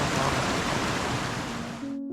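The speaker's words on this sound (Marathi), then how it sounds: "वाट मिळेल तसं नदीचं पाणी अखंड वाहतंय" The Barvi River in misty winter, its water flowing with a steady, full rushing wash close by that carries on alone before cutting off abruptly near the end.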